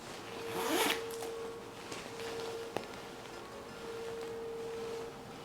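A zip pocket on a bag is zipped: a quick, close zipper pull sounds early on, followed by quieter rustling of fabric and a soft click, with no talking.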